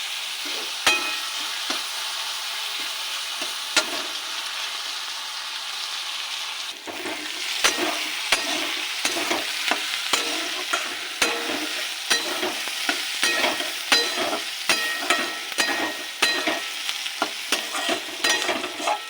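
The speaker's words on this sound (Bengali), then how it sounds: "এবার দিয়ে দেবো পেঁয়াজ কুচি।" Chopped onion and green chilli frying in hot oil after fried potatoes, a continuous sizzle with a quiet first stretch, then rapid repeated stirring scrapes and clacks, close and prominent.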